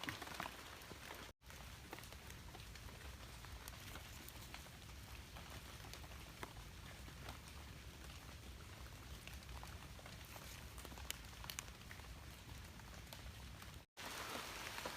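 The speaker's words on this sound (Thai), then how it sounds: "ชมฝนตกครับ" Rain falling outdoors near a mushroom patch, a steady dense hiss of drops hitting surfaces that continues for the whole stretch, with two brief dropouts and no talking.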